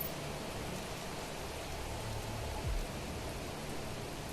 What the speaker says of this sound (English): Rain sounds are soothing, though.